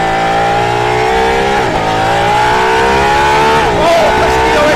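An Aston Martin Valkyrie hypercar accelerates hard on a race circuit with DRS engaged. The engine's loud, close, high-pitched wail climbs steadily through the gears, with brief dips at each upshift.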